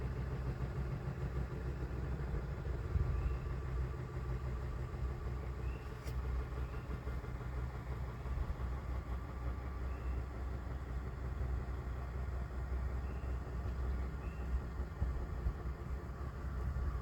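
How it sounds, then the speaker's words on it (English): Idler wheels of a Norwood HD36v2 bandsaw mill keep spinning after the band was thrown, a steady low whirring hum that holds evenly for about seventeen seconds with no talking. "To wait till these idlers stop spinning, or that idler stops spinning."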